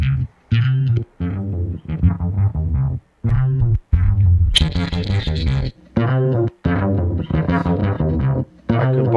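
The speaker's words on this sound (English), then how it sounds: "I get my amp designer, which is this thing here, with the bass soloed. I can scroll between different tones." Soloed bass guitar through Logic Pro's amp designer, played as short distorted phrases separated by brief gaps while the tone changes between passages, close and loud.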